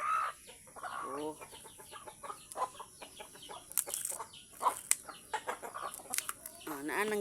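A flock of farm chickens clucking steadily nearby in a yard, with overlapping calls and a few louder squawks, some voices of people in the background.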